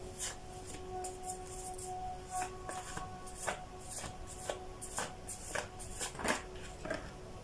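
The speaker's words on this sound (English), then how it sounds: "after a long shuffle as well" A deck of tarot cards is shuffled at length during a live reading: soft, quiet riffling and rustling with repeated sharp card snaps spread over several seconds, and no talk.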